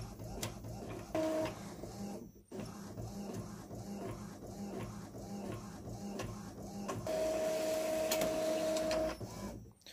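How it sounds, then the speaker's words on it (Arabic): An Epson printer whirs and clicks steadily as it feeds and prints three pages, ending with a longer mechanical hum before stopping. "الطابعة انتهت من عملية الطبع وطلعت لي ثلاث أوراق"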